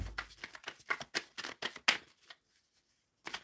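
Tarot cards being shuffled in a quick series of soft riffling bursts and slaps, close and fairly quiet, ending in a sharp snap before a brief pause and one more flutter.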